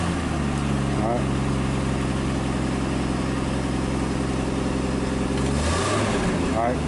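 A 1961 Dodge Lancer's engine runs steadily close by, rising briefly in a couple of revs over a constant idle while voices talk over it.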